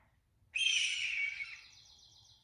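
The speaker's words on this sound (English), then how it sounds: "This bird is a red-tailed hawk." A red-tailed hawk gives a single hoarse, descending scream that trails off over about two seconds, clear and fairly close against a faint low background.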